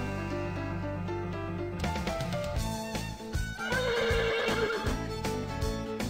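Pack horses in the game Transport Giant whinny and neigh repeatedly over a steady, dense layer of game background sound, fairly loud and continuous.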